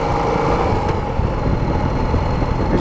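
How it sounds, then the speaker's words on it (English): A deep, rumbling Harley motorcycle engine idles steadily nearby, its low throbbing loping along without revving. "I am back on a Harley"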